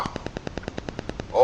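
Rapid machine gun fire, a steady string of about a dozen sharp evenly spaced bursts, fairly faint and slightly distant, ending in a brief louder noise.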